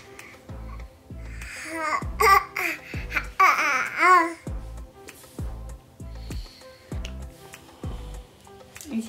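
A six-month-old baby babbles and laughs in repeated bursts while being spoon-fed, the high voiced sounds close and fairly loud over a steady low ticking-like pulse, with brief quiet gaps between feeds.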